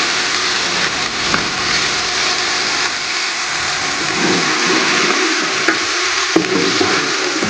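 Chopped carrots and peas fry in a pan with a loud, continuous, dense sizzle that runs steadily throughout, with a few faint clinks.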